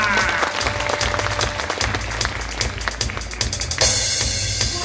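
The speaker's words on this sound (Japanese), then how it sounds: "拍手じゃ。" An audience at a samurai warrior troupe stage performance claps energetically, with dense, loud applause and some crowd noise under a voice.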